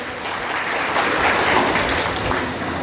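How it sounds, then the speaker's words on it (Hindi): A large crowd at a memorial day gathering for Rani Durgavati breaks into loud sustained applause, a dense wash of clapping that swells slightly in the middle and carries on steadily with no talk. "फिर से ज़ोरदार तालियां हो जाए दादा के लिए,"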